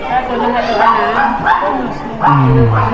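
Small dogs, a poodle and a papillon, yipping and barking in a shopping mall pet area, with steady crowd chatter and a person speaking over them.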